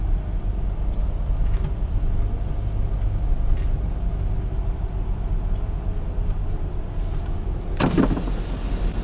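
A steady, distant engine rumble from cars drifting on the Poznan racetrack in fog, with no clear approaching pass and no talk.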